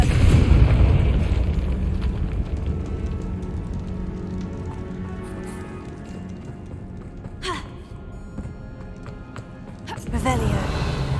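A Confringo spell explosion in Hogwarts Legacy makes a loud, booming burst at the start that settles into a long rumbling decay, with game sounds and voices through the rest.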